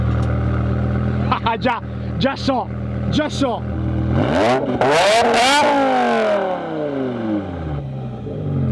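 A BMW M5 with its exhaust valves open revs up sharply in a few short blips, then gives one long, loud rev that slowly falls away, with brief speech at the start.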